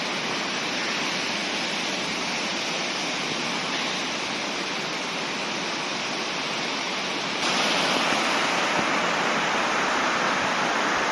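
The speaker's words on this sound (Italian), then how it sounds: "dentro questa gola, questa cascata" A waterfall inside a rocky gorge gives a steady, dense roar of falling water, loud and close, holding constant and growing slightly stronger partway through, with no voices.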